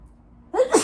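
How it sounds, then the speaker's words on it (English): A single close, loud sneeze bursts out after a quiet stretch of soft room tone, with a sharp intake followed by the explosive release. "And I have to sneeze."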